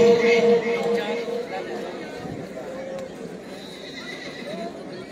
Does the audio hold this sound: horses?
yes